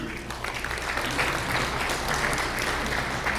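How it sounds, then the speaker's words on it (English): A crowd at the 2025 CSR Expo claps steadily and enthusiastically, a dense continuous patter of applause lasting several seconds. "Let's give a round of applause"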